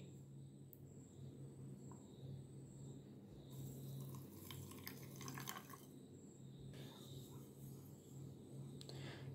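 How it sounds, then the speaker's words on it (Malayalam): Water trickles and drips steadily into a bowl of kalonji seeds, soft and close, with a brief louder splashing burst midway and no talk. "അപ്പോൾ ഇനി ഇതിലേക്ക് കുറച്ച് വെള്ളം കൂടി നമുക്ക് ഒഴിച്ചു കൊടുക്കണം."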